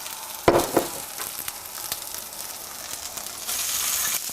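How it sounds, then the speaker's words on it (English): Breadcrumbs browning in oil in a skillet while crepes cook give off a close, steady sizzle and crackle, with a few louder pops and a brief stir near the start, with no voices. "Just a couple minutes on each side is all you need in order to brown up those breadcrumbs."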